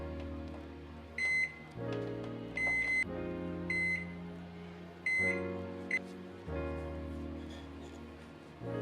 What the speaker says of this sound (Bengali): এবার আমি মাইক্রোতে দিয়ে দেবো